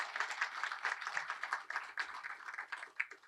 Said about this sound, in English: please give her a round of applause for all of her work